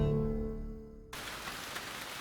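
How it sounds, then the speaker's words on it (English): Heavy tropical rain pours down in New Guinea, a steady dense hiss of water on surfaces that rises after a brief lower, music-like tone at the start. "When rain soaks New Guinea"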